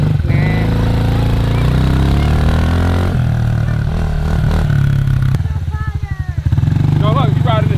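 A dirt bike engine revs loudly and steadily up close, its droning note rising and falling, with a brief dip near the end and people talking over it.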